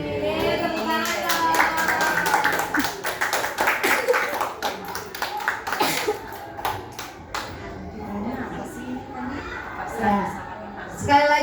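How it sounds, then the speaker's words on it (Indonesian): Audience clapping after a training presentation by Pak Ridwan at a PJOK teachers' session in North Jakarta, a burst of many hands in a hall that thins out, with chatter and voices under it. "Sekali lagi tepuk tangannya dong Bapak Ibu untuk Bapak Ridwan yang sudah memaparkan RTL-nya."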